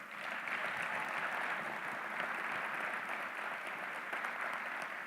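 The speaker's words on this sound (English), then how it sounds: "How about a round of applause for him?" Applause from the audience at a state community and technical college system address, a steady, continuous wash of many hands clapping at moderate distance for the full length, fairly soft and even without any talk over it.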